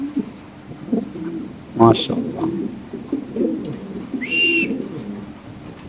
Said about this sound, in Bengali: ইন্দোনেশিয়ান মুন্ডিয়ান নর কবুতর ভাই, কালারটা দেখেন, কবুতর সাইজটা দেখেন, বিশাল বড় সাইজের একটা কবুতর